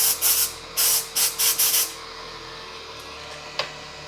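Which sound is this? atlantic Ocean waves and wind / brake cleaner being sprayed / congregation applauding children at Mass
brake cleaner being sprayed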